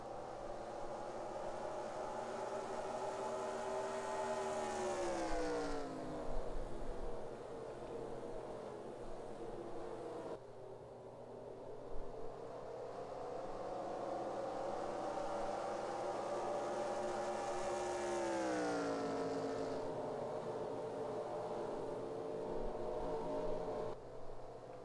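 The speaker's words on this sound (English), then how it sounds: "I can hear the cars slowing down up here in the booth." Race cars circling the oval at Rockingham in an IROC race slow down, their engine drone sweeping downward in pitch twice as they pass, fairly faint and distant, with no voices.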